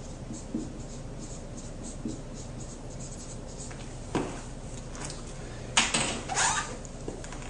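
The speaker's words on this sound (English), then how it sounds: "So let me go ahead and write that down." Pen scratching across paper as a conclusion is written out, a steady soft scribble with occasional taps and louder strokes, close and quiet with no speech.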